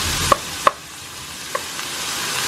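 Ground chicken fries with soy sauce in a pan, a steady close sizzle broken by a few light clacks of a utensil against the pan.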